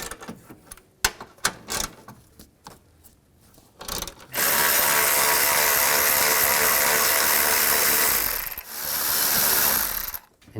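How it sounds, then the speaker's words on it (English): A ratchet with a 12mm socket backs out radiator bolts on a 2013-16 Nissan Sentra, first with scattered clicks and knocks, then a long, loud, continuous whirring buzz like a power ratchet, briefly pausing before stopping. "Take these 2 bolts out. I'm gonna use a 12mm socket."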